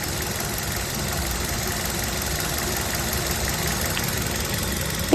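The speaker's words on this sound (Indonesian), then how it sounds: "Jadi seperti ini suara mesinnya Kia Rio ini." A 2012 Kia Rio with a manual gearbox idles just after startup, its engine a steady, even, close-up hum with a faint ticking rattle, running alone without any voices.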